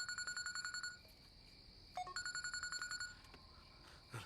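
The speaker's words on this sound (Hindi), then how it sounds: "अरे किसका फोन है यार?" A phone rings with two bursts of rapid electronic trilling separated by a short pause, heard fairly quietly in an indoor room.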